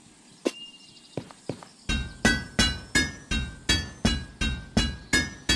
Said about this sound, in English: You can use a hammer.